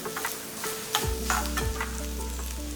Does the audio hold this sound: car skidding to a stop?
no